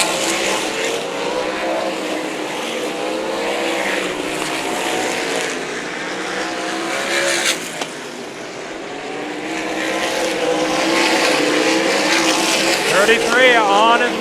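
Sprint cars race at Meridian Speedway in a steady, loud roar of engines that swells and fades as the pack circles through lapped traffic, with an announcer talking over it throughout.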